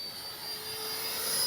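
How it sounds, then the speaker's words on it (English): An E-flite Viper 64mm ducted-fan RC jet flies overhead, giving a steady, high-pitched turbine-like whine with a hissing rush that swells slightly louder toward the end, with no voices. "And look how slow this plane can fly."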